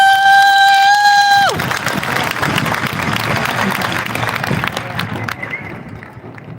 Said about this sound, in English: Let us give a big round of applause to the amazing staff of Livermore High School.